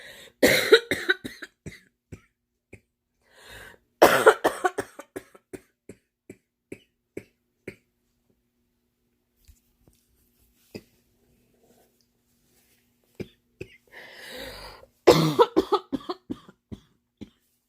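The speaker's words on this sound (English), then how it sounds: "I'm actually holding back a cough right now." Several bursts of harsh coughing close to the microphone, separated by long quiet stretches with small clicks and taps.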